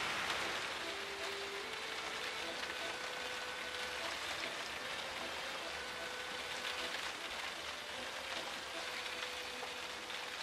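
Steady rain hissing and pattering on a surface, continuous and even throughout, with no voices.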